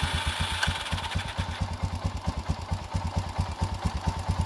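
A Suzuki DRZ motorcycle engine idles nearby after being cleared of water, with a steady, lumpy single-cylinder putter of evenly spaced firing pulses running throughout without any voices.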